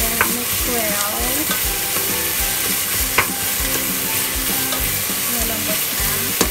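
Garlic and ginger sizzle steadily in a hot pan as a spatula stirs them, scraping and clinking against the metal at close range, with no talking.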